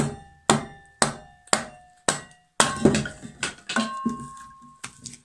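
A hammer strikes a log on a kindling cracker, a ring-contained splitting blade, in about nine sharp, loud, regularly spaced bangs; later blows come closer together with a faint ringing tone between them.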